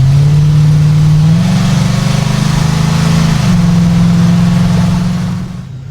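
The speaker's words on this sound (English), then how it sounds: "We definitely got a header leak up there in the front somewhere" Modified car engine with a leaking exhaust header, revving in a loud, close drone that steps up and settles at a sustained pitch, with a raspy ticking edge over the exhaust note before fading at the end.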